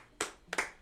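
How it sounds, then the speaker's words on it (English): A few people at a comedy show clap in two short, sparse bursts, light and close, with near silence between them. "Everyone like clap."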